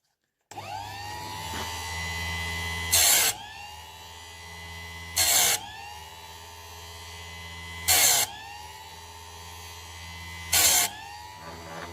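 GÜDE GKS 108 electric chainsaw sharpener running with a steady motor whine, broken by four short, bright grinding bursts spaced a few seconds apart as the wheel bites each chain tooth.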